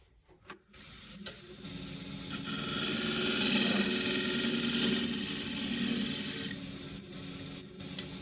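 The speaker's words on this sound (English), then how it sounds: "Shear scrape." Shear scraping on a wooden bowl spinning on a lathe: a steady, fairly loud rasp that swells in the middle and then eases off, with lighter scratchy touches before and after.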